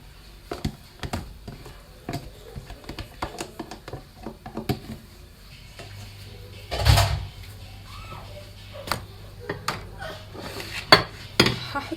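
Ground meat dropped and scraped from a container into a large empty bowl in a home kitchen, a run of close clattering knocks and soft thuds with a heavier thump midway, no talk.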